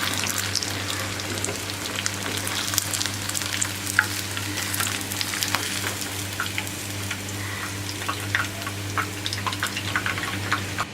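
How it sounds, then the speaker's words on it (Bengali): Chicken crumb chops with a shrimp filling deep frying in hot oil, giving a steady, dense sizzle and bubbling that runs close and even throughout, with a low hum beneath and no voices. "ভাজা হয়ে গেল ভিউয়ার্স চিকেন ক্র্যাম চপ।"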